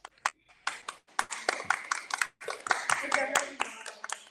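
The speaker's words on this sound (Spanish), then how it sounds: "Aplauso para ese corto" Scattered, uneven clapping from a small group at a primary school in Pilar de la Horada, greeting a short film, with voices talking over and between the bursts of claps.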